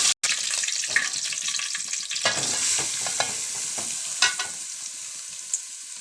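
Curry leaves dropped into hot oil with fried urad dal, giving a loud burst of sizzling and crackling that settles into a steady fry, with occasional scrapes of stirring close by.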